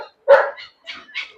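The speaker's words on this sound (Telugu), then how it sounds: "ఇది మినీ పొమేరియన్ పప్పీస్ అండి" Milk-white mini Pomeranian puppies at a kennel let out a loud close bark followed by a few softer, higher yips and whimpers in short bursts.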